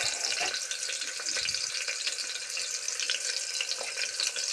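Onions frying in a pan for a simple village-style ghee rice bath: a dense, steady hiss of sizzling oil fills the whole stretch, close and even, with faint crackles and no talk.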